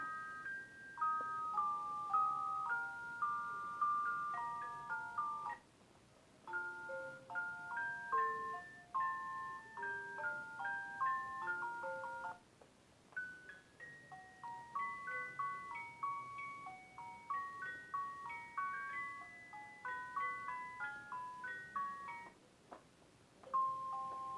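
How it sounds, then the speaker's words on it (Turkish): A bright, tinkling electronic lullaby tune from a Kraft ceiling projector plays alone in a steady, music-box-like melody, with short pauses between phrases. "5 tane kendine ait melodisi var."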